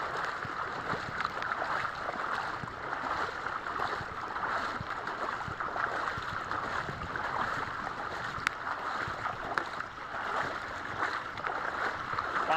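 Floodwater rushes past after a dam broke during monsoon rain, a continuous broadband roar of flowing water with scattered splashes and a couple of sharp clicks, steady and moderately loud with no clear talk.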